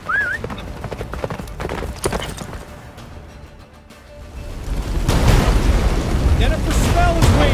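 Roach, the horse in The Witcher 3: Wild Hunt, gallops with steady rhythmic hoofbeats beneath a deep rumbling game score that swells louder toward the end, joined by brief whistling tones.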